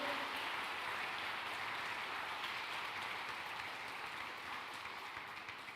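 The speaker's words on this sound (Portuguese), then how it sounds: "Você pode aplaudir o Senhor Jesus" Sustained applause from a sizable church congregation during a sermon, a dense even wash of clapping that fades slightly toward the end.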